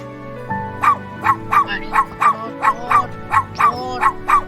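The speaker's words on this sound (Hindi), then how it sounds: "अरे यह कुत्ता तो मेरे पीछे पड़ गया" A dog barks in a steady run of about a dozen loud, close, evenly spaced barks while chasing someone, with a faint background tone underneath.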